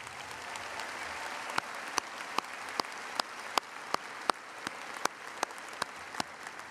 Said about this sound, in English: everybody, please give them all a round of applause.